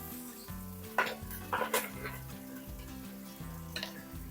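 Tomatoes go into a frying pan with curry leaves for a potato fish curry, with a soft sizzle, clinks and scrapes from a spoon stirring against the pan, and background music playing throughout.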